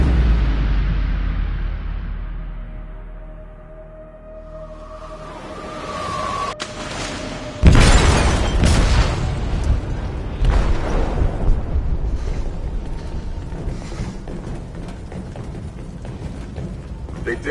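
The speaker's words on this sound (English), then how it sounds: "They detonated an explosive in the hold." A large explosive detonates in a ship's hold in the Detroit: Become Human game, a sudden loud boom followed by a long, roaring rumble and debris noise.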